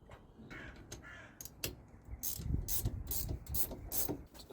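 A torque wrench clicks and ratchets in quick, uneven bursts while tightening Brembo front brake caliper bolts on a Mazda MX-5 ND, fairly close but quiet, with the metallic clicking growing busier toward the end.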